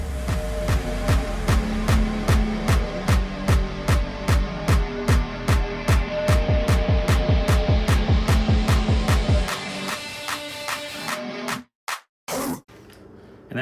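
An electric meat grinder motor grinds meat for sausage with a loud, steady hum and a fast rhythmic throbbing chug, which thins out and then stops in abrupt cutoffs near the end.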